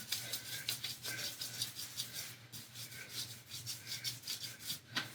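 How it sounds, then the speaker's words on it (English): Soft rhythmic rubbing of lotion into the skin of the hands and forearms, close and quiet, with repeated brushing strokes. "I go ahead and rub it in"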